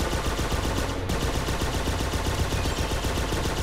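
Rapid automatic gunfire in the toy-soldier war game Toy Soldiers: War Chest, a loud, continuous stream of shots with a brief break near the one-second mark.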